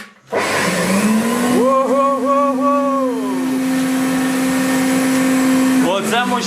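An old Soviet "Raketa" vacuum cleaner's 400-watt motor starts up and runs with a loud, steady whine that rises in pitch, then cuts off near the end.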